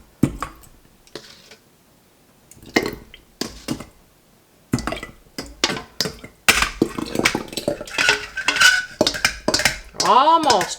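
Homemade apple sauce scraped and spooned into a glass jar: a series of close clinks, taps and wet scraping knocks of utensil against jar and pot, irregular and growing busier toward the end.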